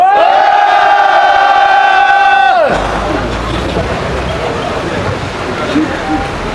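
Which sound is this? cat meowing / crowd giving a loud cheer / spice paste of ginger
crowd giving a loud cheer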